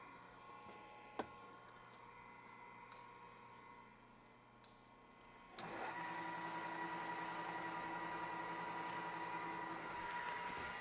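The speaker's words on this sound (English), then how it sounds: "So I'm gonna use the power feed on my mill to just start the threads on this guy" A milling machine's power feed drives a tap to start threads in aluminum, a steady mechanical whir with a faint hum that steps up louder partway through and holds, preceded by a brief click.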